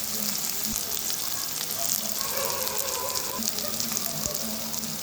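Onion frying in hot oil with turmeric added while cooking dried bombil, a steady close sizzle with occasional sharp crackles and stirring, no voice.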